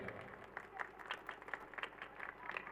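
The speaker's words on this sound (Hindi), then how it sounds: "तमाम बच्चे इनके लिए तालियां बजाएं।" Children applaud at a school annual prize-giving ceremony, a faint, distant patter of scattered clapping with uneven bursts, picked up quietly from across the hall.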